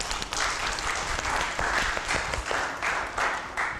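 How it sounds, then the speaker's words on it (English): An improv show audience claps loudly and steadily, with sharp individual claps rising and falling through a sustained round of applause. "Please, everyone, give a round of applause for Miss Pig."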